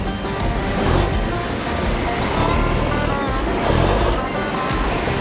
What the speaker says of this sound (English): We're loaded up, and now we're crossing. In the good old military truck.